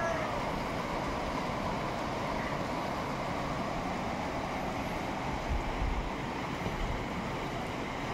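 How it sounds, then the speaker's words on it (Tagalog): A rooftop water sprinkler sprays water across a house roof, making a continuous, even hiss like rushing surf that holds steady at moderate volume throughout. "Itong tubig guys na nag-spray dito sa taas, babalik din dito sa tangke."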